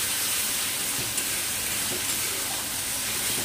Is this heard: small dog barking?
no